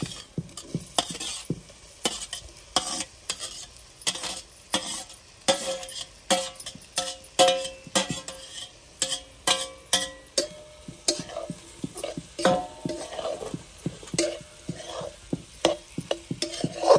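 Raw papaya pieces stirred in a sizzling pan, with a quick, rhythmic run of spoon scrapes and clicks against the metal over a soft frying hiss, close and continuous.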